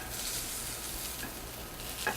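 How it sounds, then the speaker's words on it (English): Fish fillet frying in hot oil in a pan, a steady soft broadband sizzle with faint stirring scrapes, quiet and continuous without talk. "now you put your filet in into the hot. You want to hear that little sizzle"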